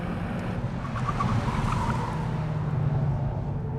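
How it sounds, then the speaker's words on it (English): A 2013 MazdaSpeed3, a front-wheel-drive car with a limited-slip differential, powers hard out of a corner with one tire spinning, producing a steady, loud engine and road roar with no talking. "It is so much torque that when you come out, you're just spinning one tire"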